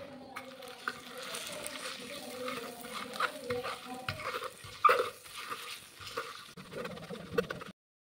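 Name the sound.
mixing garlic chili thecha with a tumbler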